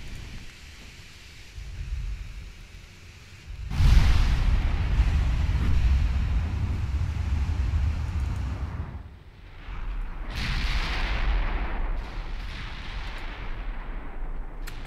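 Heavy 15-inch naval guns firing in the warship game Ultimate Admiral Dreadnoughts, a deep booming salvo that erupts suddenly and rumbles on, followed by a second blast a few seconds later over a low continuous roar.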